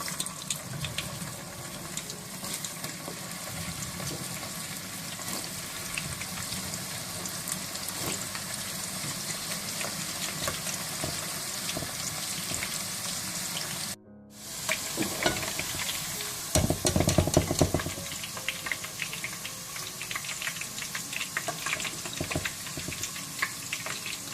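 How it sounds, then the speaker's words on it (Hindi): Okra (bhindi) fries in a pan with a steady, moderate sizzle and crackle, broken by a short pause and then a louder burst of spattering. "इसी तरह से आप सारी भिंडियां फ्राई कर लें।"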